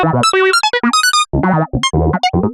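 A synth filter plugin shapes a vowel-like tone, its formant modulated at audio rate by a fifth oscillator, producing choppy, shifting bright notes in quick separate bursts with a wobbly, voice-like character.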